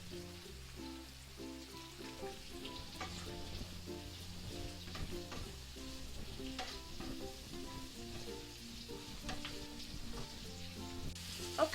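Vegetables stir-fry in a hot pan for king prawn noodles, a continuous sizzle with scraping stirs and clinks, steady and fairly quiet, no talk.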